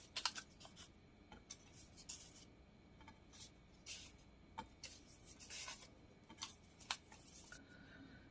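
Scissors trim excess paper in a series of quiet, close, irregular snips and rustles with short pauses between cuts; no voices.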